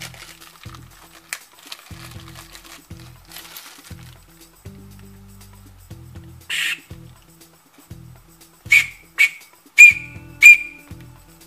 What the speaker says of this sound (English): This looks to be a keychain / whistle.